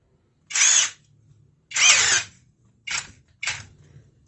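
Stormer Pro cordless drill/screwdriver spinning at high speed in four short trigger bursts, a loud whining motor hum that starts and stops abruptly, close up.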